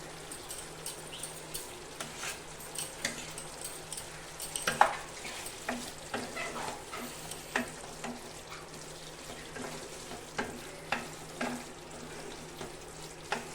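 Ghee sizzles in a hot pan while a utensil stirs through it, giving steady frying hiss with scattered scraping clicks during the cooking of a Bengali doi potol (pointed gourd in yogurt) dish; no voices.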